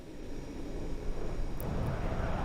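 Engine of a Just Flight Hawk T1 jet in Microsoft Flight Simulator 2024 as the throttle is advanced, producing a steady broadband roar that swells slightly and holds fairly loud, with no talking.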